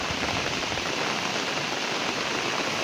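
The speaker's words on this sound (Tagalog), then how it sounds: "pero ulan na naman" Steady rain pours on an eggplant farm during a typhoon, a dense, even hiss close by with no breaks and no voices.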